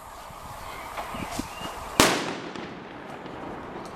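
A single loud firecracker bang at Fallas in Valencia, a sharp close blast with a ringing decay, set against a steady crackle of distant fireworks and crowd murmur.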